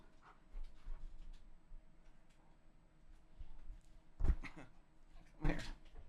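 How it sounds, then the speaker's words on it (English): A dog whimpers, pants and gives a couple of sharp yips or short barks indoors, mostly faint with two louder bursts near the end. "But just don't bark."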